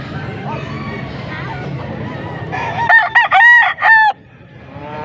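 A young gamecock (stag) crows loudly and close at a gamefowl sale in Pampanga, one long multi-part crow rising over a background of voices and crowd babble.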